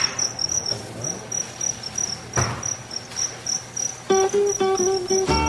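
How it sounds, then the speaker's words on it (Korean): Live crickets kept as edible insects chirp continuously in rapid, high trills, close and fairly loud, with a brief knock partway through and a few clear tones near the end. "그리고 귀뚜라미입니다."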